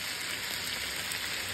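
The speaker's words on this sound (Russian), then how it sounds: "Картошечка жарится." Potatoes fry in a pan, giving a steady, dense sizzle that holds at an even level from start to finish, with no voices.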